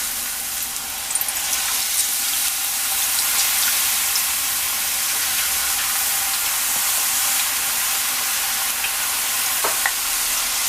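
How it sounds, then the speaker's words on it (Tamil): Potato chips frying in shallow hot oil in a wide kadai, a steady dense sizzle and crackle that holds close and loud throughout, with occasional sharper pops and light scraping. "இந்த சிப்ஸை போட்டுடலாம்."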